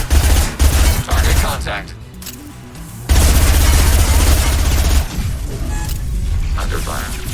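Dense bursts of gunfire from the video game Mass Effect 2, a sustained fusillade with heavy booms and rapid automatic fire, loud and close, punctuated by pauses while a voice speaks over the combat.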